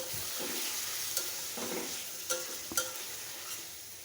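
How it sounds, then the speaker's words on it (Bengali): Rohu fish sautés in a spiced masala in a pan, a soft close sizzle broken by a few sharp clinks and scrapes of a spatula turning the pieces, with no voices. "দিয়ে দিব সেই রুই মাছটা, দিয়ে ভালোভাবে কষিয়ে নেব"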